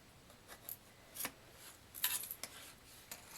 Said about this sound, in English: And now you just cut